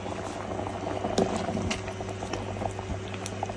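Spinach simmers in a pot on the stove, a steady soft bubbling and patter with a low hum underneath, close by and continuous, with no voices.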